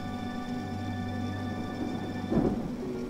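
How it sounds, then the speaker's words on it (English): Thunderstorm with steady rain heard from inside a plane in the Midnight Scenes video game, a constant rain wash under a low hum with a brief rumble of thunder swelling near the end. "we are entering a thunderstorm and may experience some turbulence"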